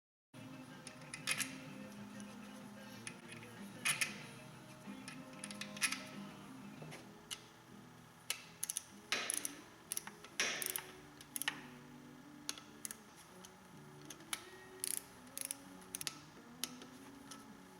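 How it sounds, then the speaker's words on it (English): Quiet workshop mechanical sounds from tightening the cam journal bolts on a Yamaha YZ450 engine with a torque wrench: scattered small ticks, clicks and ratcheting at close range over a low background hum, with no talking. "Now very carefully torque these to 10 Newton meters."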